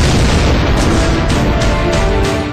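A loud, sustained rumbling roar from a terrorist bomb blast outside the Delhi High Court fills the whole stretch, dense and broadband with rolling low-end booms and no clear voices.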